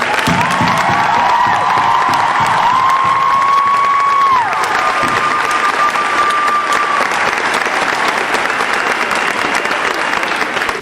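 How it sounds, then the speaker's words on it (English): A convention audience at a Supernatural cast panel breaks into loud applause and cheering, with whoops and shouts sustained throughout. "Round of applause, guys."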